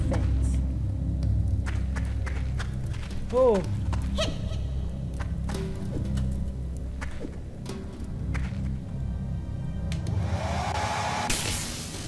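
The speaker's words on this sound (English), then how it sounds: "Hold the attack button to charge your hair dryer for a stranger shot." A whirring electronic hum swells and builds under game sounds and a voice as a hair dryer weapon charges in the video game Onirism, with scattered sharp effects and a rising tone near the end.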